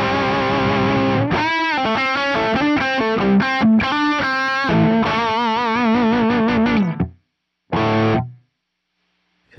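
Electric guitar played through a Fender Pugilist distortion pedal set for a modern distortion tone, heard as loud, saturated chords and sustained notes that end in an abrupt stop, then one short final strum.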